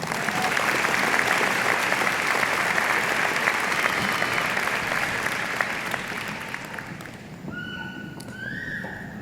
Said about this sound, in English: And please join me in another round of applause for all of our faculty.